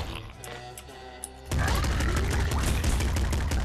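Gunfire in the video game Nuclear Throne: a quieter stretch of game sound, then a sudden dense barrage of rapid shots and crashes that stays loud to the end.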